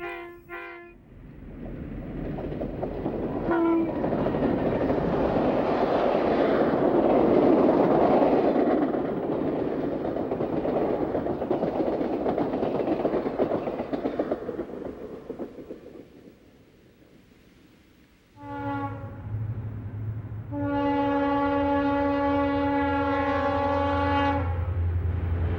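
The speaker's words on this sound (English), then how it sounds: "A sparkling sunset highlights Amtrak's train number 15, the Lone Star, as it leaves Galesburg." Amtrak's Lone Star passenger train rumbles loudly past and pulls away from Galesburg at sunset, its horn blowing two long chords near the start and again in a sustained blast at the end.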